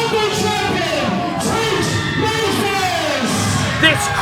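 A loud, dense arena crowd roars and yells continuously at a wrestling ladder match, with a commentator talking over the noise.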